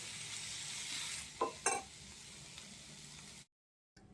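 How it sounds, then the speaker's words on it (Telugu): A curry is stirred in a hot pan with sesame powder, sesame seeds and dried red chillies, a soft steady sizzle with a few scraping stirs before the sound cuts out. "నువ్వుల పొడి నువ్వులు ఎండుమిర్చి తీసుకొని బాగా కలుపుకోండి"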